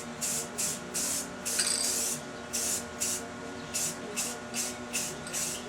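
Short bursts of aerosol spray hiss in a regular rhythm as tint is sprayed onto a Victory motorcycle lens, each pass close and clear with brief pauses between.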